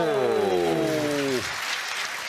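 A pétanque crowd applauds after a double shot, a broad wash of clapping under a loud falling horn-like tone that cuts off, then the clapping carries on alone.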